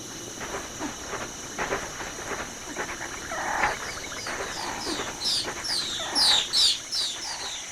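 Feathered raptors from the video game Zoo Tycoon 2 squawk and shriek in a scuffle, sharp repeated calls growing louder and more frantic toward the end over a busy background of chirps.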